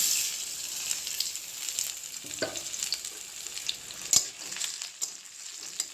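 Chopped onions fry in hot oil, a continuous bright sizzle with a few soft stirring knocks, close and steady, no voices.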